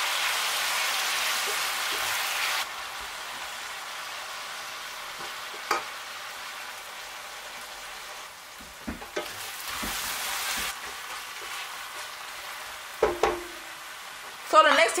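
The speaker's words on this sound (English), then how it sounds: "After frying your onions for a while, add your tomatoes and fry till dry." Soft sizzling of onions and tomatoes frying in a pan, with occasional clinks and scrapes of stirring.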